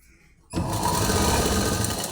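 After a brief hush, a sewing machine starts up stitching polish stitch on a saree, its rapid needle chatter running loud and continuous to the end.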